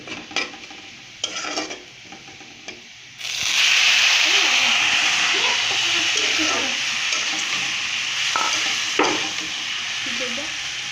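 Oil sizzles in a pan while dal and papaya fry, a few light clicks and utensil taps at first, then a loud steady hiss from about three seconds on with occasional stirring scrapes.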